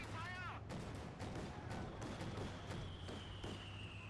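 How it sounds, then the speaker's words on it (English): A 222 armored car firing in a World War II strategy game, a quick series of sharp, fairly distant shots repeating in a loose rhythm under battle rumble, with a whistling tone early on and faint chatter. "222 firing away"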